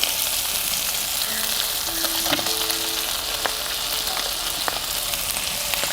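Crushed shallots and dried red chilies go into a pan of fried sardines, giving a constant soft frying hiss broken by occasional light utensil clicks.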